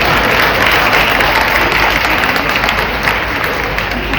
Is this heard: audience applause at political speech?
yes